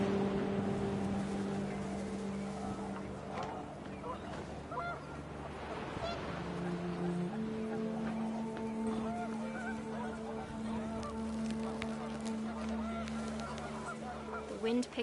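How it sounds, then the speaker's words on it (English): Panicked geese honk in the video game What Remains of Edith Finch as wind picks up outdoors, a steady run of overlapping honks over a windy background with music-like tones. "The wind picked up, and panicked geese appeared and quickly went."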